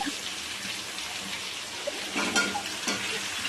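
Eggplant kootu with tamarind, chili and coconut sautés in a pan, a constant close sizzle with occasional stirring scrapes and small pops layered over it.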